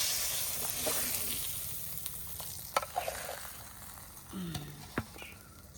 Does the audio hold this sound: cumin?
yes